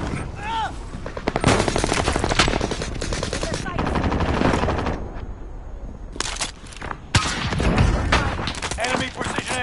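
Heavy gunfire in a video game, loud bursts of automatic fire and single shots coming in clusters with brief gaps, close and punchy, under occasional radio-style game voice callouts.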